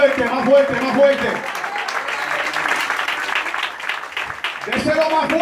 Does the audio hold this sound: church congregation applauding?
yes